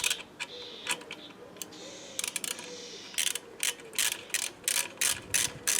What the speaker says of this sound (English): all that's left is a 10mm socket to tighten up the clamp